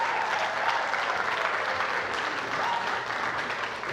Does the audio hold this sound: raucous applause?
yes